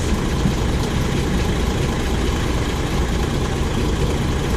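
A DAF XF truck with an MX-11 engine idles close by, giving a steady, loud, low diesel rumble that keeps an even tone without revving.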